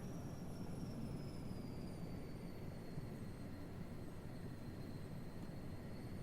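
Aircraft taking off in Microsoft Flight Simulator 2024, a steady, dense engine roar with a faint high whine sliding slowly downward, holding at an even level throughout with no talk.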